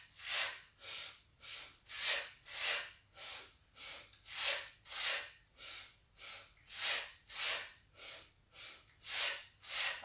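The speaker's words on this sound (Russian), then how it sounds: "Вдох, вдох, выдох" Deep, rhythmic breathing during a joint-gymnastics workout, about a dozen strong whooshing inhales and exhales in steady alternation, close and clear against a quiet background with no speech.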